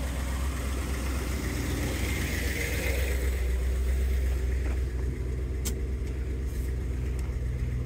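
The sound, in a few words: car engine idling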